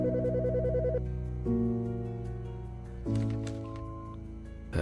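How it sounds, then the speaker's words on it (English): A telephone rings with a warbling electronic tone, loud and close, in three bursts spaced about one and a half seconds apart, with no talking. "The fucking phone."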